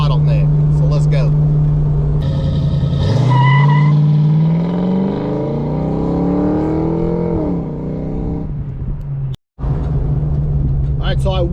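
A Ford Fox body Mustang with a complete GT40 top end and E303 cam accelerates hard, engine note climbing through gears with revs rising and dropping, loud and close with a brief cut near the end.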